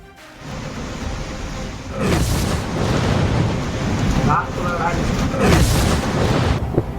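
Thunder rumbles through a storm with rain in Bihar, India, two deep rolling booms over a steady rainy wash, each swelling and slowly fading, fairly loud and close.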